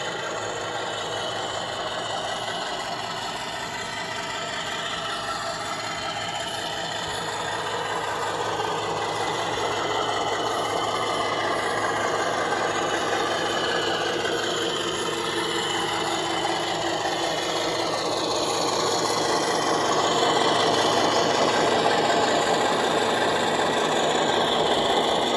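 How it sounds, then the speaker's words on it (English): A Class 50 model locomotive with DCC sound runs with its flange squeal active, giving a continuous faint screechy rubbing over a steady motor drone that builds slightly toward the end, with no talking. "So I've activated the flange squeal, so you'll probably start hearing it as it gets to the corner."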